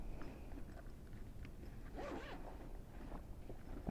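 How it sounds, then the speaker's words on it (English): A zipper is run closed along a Sedici luggage bag in a few steady pulls, with a louder rasping stretch near the middle, close and fairly quiet against a low room hum. "zip it back up. It's not hard to zip."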